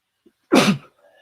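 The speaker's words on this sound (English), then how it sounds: "Pardon, I have to sneeze, or I could feel one coming." A single loud, close sneeze bursts out after a tiny intake of breath, followed by a faint trailing sound.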